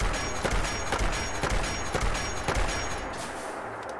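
The fully upgraded Steampunk Revolver mod in Fallout 4 fires at a Deathclaw: about seven punchy shots in an even rhythm roughly half a second apart over a constant background rumble, then a quieter tail.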